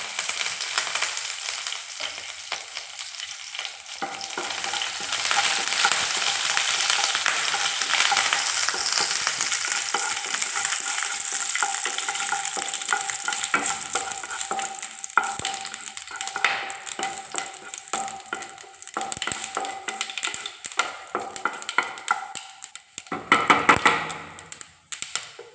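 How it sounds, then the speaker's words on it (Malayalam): Mustard seeds and curry leaves hit hot oil in a pan, bursting into a loud, close sizzle that settles into steady frying with scattered pops and a few knocks of a utensil near the end. "കടുക് ഇടുക. അതിലേക്ക് കറിവേപ്പില ഇടുക."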